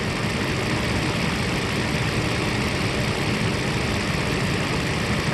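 A 1997 Mercedes S600 coupe's engine idles at about 650 rpm, a steady, loud, continuous rumble with an even low drone and no voices over it.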